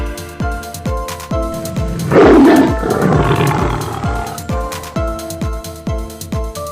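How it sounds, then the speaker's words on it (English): A lion roars loudly in a children's phonics song, one long rumbling roar rising over a steady plucked musical beat that plays throughout. "L for lion."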